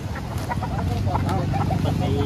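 Chickens cluck in a busy poultry market stall, their calls breaking through a steady crowd murmur and nearby conversation for a couple of seconds.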